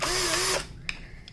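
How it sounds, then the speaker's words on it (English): Cordless power drill spinning up in a steady whine for about half a second and then stopping, followed by a couple of faint clicks. "so I charged up my drill"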